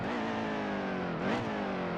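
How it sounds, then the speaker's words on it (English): A race car in the video game NASCAR Heat 2 drones steadily at high revs, then dips and surges briefly as it downshifts, loud and close with no one talking. "Downshift."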